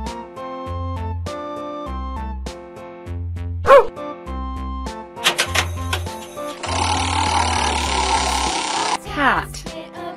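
A cartoonish dog bark, as in a children's animal-figurine learning game, sounds once briefly over bouncy, looping children's music, with other short sound effects around it.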